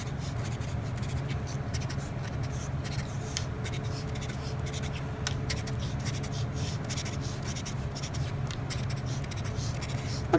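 Pen steadily scratching dashed and wavy lines across paper, a continuous close-up rasp of strokes with no pauses, dense and even throughout.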